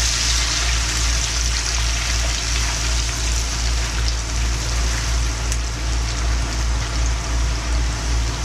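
Onion strings fry in hot oil while being stirred, giving a dense, steady hiss and crackle that runs unbroken and close, with no voices.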